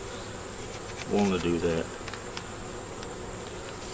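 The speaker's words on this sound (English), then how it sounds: "this is the bees" Honey bees buzz around a hive in combined nucs, a brief close burst of droning that rises and fades over steady background hum, with someone speaking briefly.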